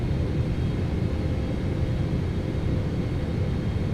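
Boeing 777-300ER cockpit in a PMDG flight simulator game, a steady dense low rumble of engine and airflow noise, constant and unbroken.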